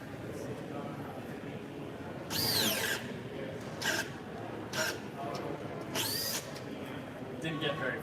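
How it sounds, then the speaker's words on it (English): An 18-volt cordless drill from a leading competitor brand whines in short, loud bursts that stall and stop, about five attempts over several seconds, each fading quickly under a steady background murmur of a busy trade-show crowd. "Then we'll grab the leading 18-volt competitor."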